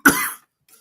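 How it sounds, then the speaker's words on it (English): A single short, harsh cough, close and loud, followed by silence and a faint trailing breath. "Sorry, I'm coughing, so I'm putting myself on mute there."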